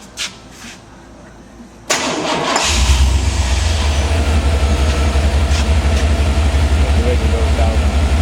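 A car engine cranks and catches after a few quiet clicks, then settles into a steady, close, loud idle with a low rumble; someone talks over it.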